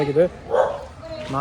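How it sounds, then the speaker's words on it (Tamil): A dog gives a few close, loud yipping barks with short gaps between them. "இங்கே பாருங்க, நாய்"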